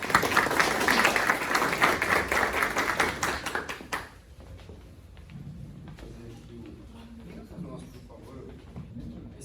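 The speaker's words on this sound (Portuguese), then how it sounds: "Uma salva de palmas para eles, por favor." Audience applause at a talk event, lively clapping for about four seconds that stops abruptly, followed by quiet room sound with soft talking.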